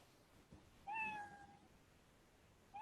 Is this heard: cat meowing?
yes